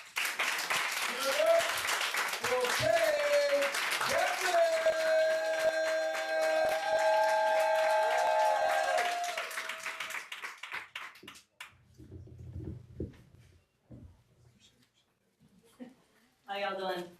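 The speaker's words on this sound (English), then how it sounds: "Start clapping now." An audience at a spoken word poetry event claps and cheers loudly for about ten seconds. A person then speaks briefly over scattered taps and quieter room sounds, followed by one short burst of noise.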